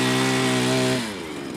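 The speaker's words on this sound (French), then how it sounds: "il dérange tout le monde en faisant du cross" A small dirt bike engine buzzes at a high steady pitch, then drops away as the throttle eases, revving nearby while riding motocross in a garden.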